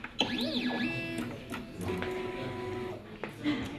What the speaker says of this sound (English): The machine begins to print the design.